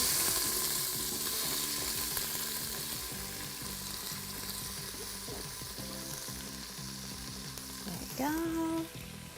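Chopped onion and celery fry in oil and butter inside an Instant Pot, giving a loud, steady sizzle that fades a little over time, with a brief clatter of stirring near the end.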